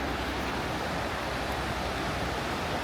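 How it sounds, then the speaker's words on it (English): Rushing water roars steadily near a gate in Wyoming wilderness, a constant broadband wash with no breaks and no voices, moderately loud and continuous throughout. "I hear water."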